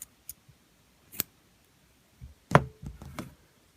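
Scissors snip crochet yarn, giving a few sharp, close clicks and a short crunchy cut among quiet handling sounds.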